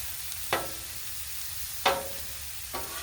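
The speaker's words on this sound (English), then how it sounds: "Getting a good sear." Country style ribs sear on a Blackstone griddle, a quiet steady sizzle broken by three sharp scraping spatula strokes.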